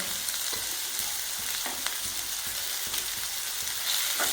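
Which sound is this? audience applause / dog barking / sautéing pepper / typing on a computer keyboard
sautéing pepper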